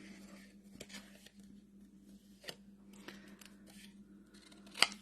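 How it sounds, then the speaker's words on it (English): Scissors snipping around a stamped paper image for a card, a few soft crisp cuts spaced apart over a low steady hum, with one sharper snip near the end; no talking. "Bear with me as I cut this out."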